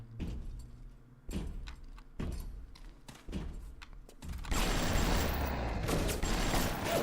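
Gunfire in the video game Bioshock: several separate heavy shots with short pauses between them, then a sustained loud burst of dense, noisy firing that carries through to the end.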